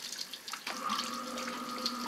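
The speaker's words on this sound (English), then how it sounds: "I'm going to turn the front pump on" A front sump pump switches on and moves water: a soft start gives way to a steady, rushing flow of water over a constant low motor hum, fairly quiet and without voices.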